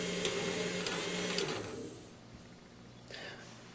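A small electric motor from a snap circuit kit hums and whirs steadily close by, then winds down and fades to quiet near the end.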